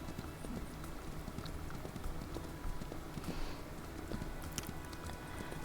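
Horse hooves clip-clop steadily in the Ranch of Rivershine video game, a quiet, even rhythm of soft hoof beats with a faint ambient bed and no talking.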